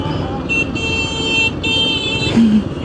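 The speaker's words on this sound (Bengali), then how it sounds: "আর তেল পাম্পের এই জায়গায় জাম পড়ে যায় এরকম।" Congested road traffic at a fuel station in Konabari, Gazipur, with steady engine rumble, passing vehicles and a sustained horn blaring through much of the scene, plus a brief low engine surge near the end.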